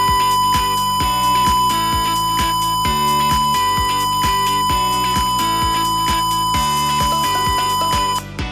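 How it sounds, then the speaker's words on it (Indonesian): A loud electronic buzzer on a water tank level monitor beeps in a steady repeating pattern for several seconds as the tank nears full, then abruptly cuts off near the end. "maka buzzer berbunyi."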